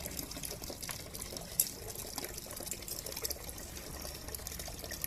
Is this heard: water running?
yes